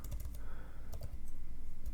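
Rapid keystrokes on a computer keyboard while entering a Linux alias command, a quick series of close, crisp clicks in uneven bursts with short pauses between them.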